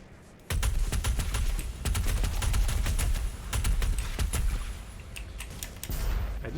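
Rapid bursts of gunfire in DOOM Eternal, loud repeated shots firing in quick clusters with short pauses between volleys.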